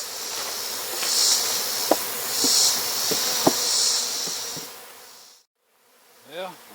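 Honey bees buzz around a beehive box, a dense, continuous drone swelling and fading up close, with scattered small knocks and taps and a voice briefly at the end.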